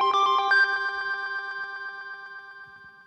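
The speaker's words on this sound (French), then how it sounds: "tout d'un coup il y a un gars à côté de vous et son portable fait ceci" A mobile phone ringtone chimes nearby as a bright, steady electronic melody of rapid repeated pulses, loud at first and tapering gradually, with no voices over it.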